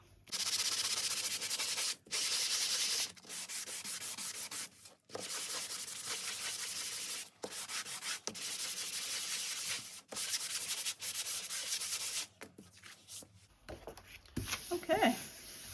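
Glued paper scrap tickets being sanded in long, steady abrasive strokes, loud and close, broken by brief pauses between passes, with handling noises at the end.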